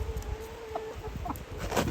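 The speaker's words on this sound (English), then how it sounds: "We also have 13 laying hens and 1 rooster." Laying hens and a rooster at a simple backyard coop with an automatic door and nest boxes give soft, scattered clucks over a steady low rumble, with a louder burst near the end.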